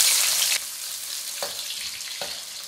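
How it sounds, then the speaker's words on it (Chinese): Ginger hits hot oil left from frying crab, a loud bright sizzle at first that settles into a steadier fry with a few soft stirring knocks. "先把姜爆香。"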